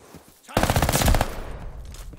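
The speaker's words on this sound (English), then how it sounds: "They're shooting back. Team is shooting me, bro." Automatic gunfire in Call of Duty Vanguard, apparently an Armaguerra 43: a sudden, loud, rapid burst of shots after a quiet lead-in, followed by a decaying echo.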